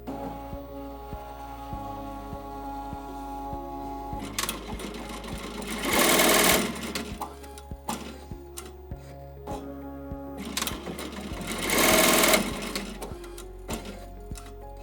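A ZSK embroidery machine stitches an in-the-hoop mask design with a steady, rapid mechanical chatter and hum, broken by two louder whirring bursts as the frame repositions, close and continuous with no talk.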